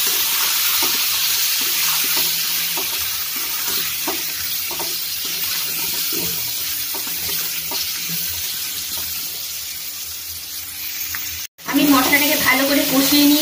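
Spice paste seasoned with salt and sugar frying in a pan while being stirred constantly, a steady hiss with soft stirring taps, ending in a sudden louder burst of sizzle.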